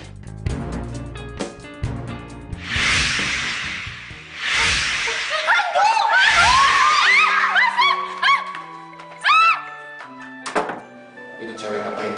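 A woman screams in a hotel room drama, with loud, rising, shrill cries close by, mixed with other people's voices and a few dull thumps.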